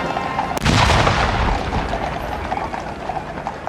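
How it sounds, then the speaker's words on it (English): A ceremonial minute gun fires during the Queen's funeral procession, one deep, loud boom that rolls and fades into a long outdoor reverberation over crowd ambience. "And as the minute gun fired"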